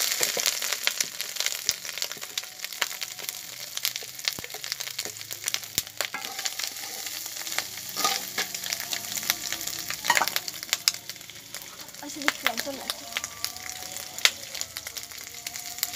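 Noodles fry in a pan with fried egg, onion, potato and green chilli, giving a steady close sizzle broken by frequent scraping and clinking stirs, with no talking.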